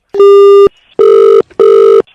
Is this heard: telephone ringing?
yes